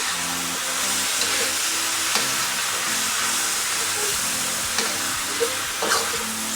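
Moo shu pork stir fry sizzles loudly over high heat as sauce is tossed in, a dense continuous hiss with occasional light clicks of stirring, close and without talk.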